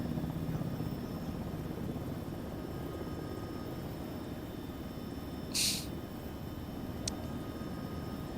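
A helicopter drones steadily and loudly in Arma 3, a constant rotor-and-engine roar filling the whole stretch, broken only by a brief hiss and a sharp click.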